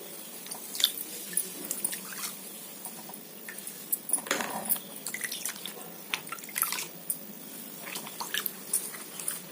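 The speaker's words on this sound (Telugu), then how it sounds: "మళ్ళీ నీట్గా అయితే కడిగేసుకోండి." Cut ridge gourd pieces washed in a bowl of water in a home kitchen, with close, irregular drips, splashes and soft squishing as the pieces are handled, no talking.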